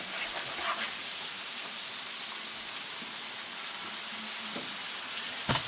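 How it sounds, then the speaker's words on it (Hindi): Garlic frying in oil over a medium flame for a fish curry gives a steady, even sizzle and hiss that holds for the whole stretch, close and moderately loud, with a couple of faint clinks near the end. "इसको हम 3 से 4 मिनट तक पकाएंगे ताकि इसका जो है कच्चापन ख़त्म हो जाए और ये लहसुन पक जाए ऑयल में।"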